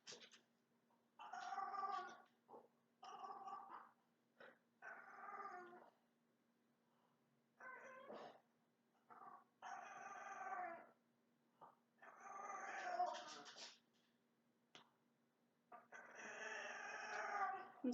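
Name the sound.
dog whining at people outside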